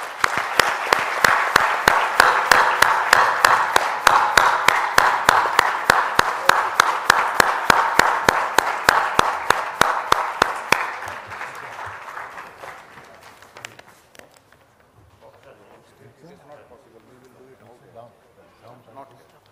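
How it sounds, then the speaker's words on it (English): A large hall audience gives a final round of applause for the Dalai Lama. The dense, loud clapping is punctuated by sharp periodic beats and fades out over the last several seconds to near quiet, with faint voices remaining. "I would invite you to join me in a final round of applause for His Holiness the Dalai Lama."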